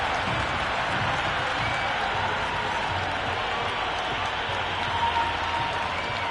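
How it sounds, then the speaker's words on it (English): Raucous cricket crowd at Lord's during a Peshawar Zalmi versus Kolkata Knight Riders match, a continuous roar of cheering and clapping from a large stadium audience, steady and broad throughout. "The crowd are really getting quite raucous."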